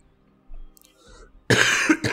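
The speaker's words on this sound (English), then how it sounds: "Pardon me as I cough lightly and gently" A man gives a light, gentle cough into a close microphone while playing the card game Faeria. A faint rustle comes first, then two quick, sharp bursts right up close.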